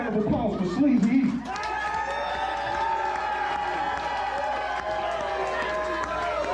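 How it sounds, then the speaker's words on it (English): A live audience cheers and whoops continuously after an announcer's request for a round of applause, with shouts and voices mixed into the broad sustained crowd roar. "Let's give a fucking round of applause for Sleezy."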